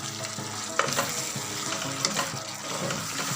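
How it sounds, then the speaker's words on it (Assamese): Chopped tomatoes and peas fry in a hot pan and are stirred into a paste, a steady sizzle broken by a few sharp scraping strokes of the spoon, close and uninterrupted by talk. "এতিয়া যেতিয়ালৈকে বিলাহী আৰু মটৰৰ কেঁচা গোন্ধটো নাযায়, পেষ্ট হৈ যায়, তেতিয়ালৈকে আমি এইখিনি ভাজি থাকিম।"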